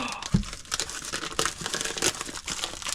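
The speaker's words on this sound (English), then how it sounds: "it says you can just peel it off" Plastic film is peeled off a pack of Aldi beef mince, making close, continuous crinkling and crackling with a few sharper tearing bursts.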